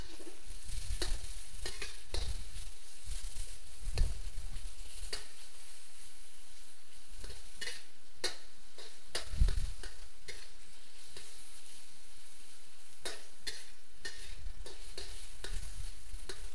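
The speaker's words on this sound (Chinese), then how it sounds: "把肉丝炒至全部变成白色的时候" Pork strips with garlic and chili stir-fried in a wok for pork with pickled mustard greens: steady loud sizzling with repeated sharp spatula scrapes and tosses at an irregular rhythm, close up and without talk.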